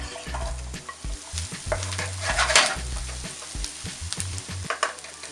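Onions sauté in oil in a pan, a close crackling sizzle punctuated by repeated scraping stirs and soft knocks of a utensil, with no talking.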